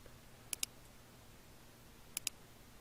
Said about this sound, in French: Ouvrir Visual Basic en appuyant sur les touches Alt F11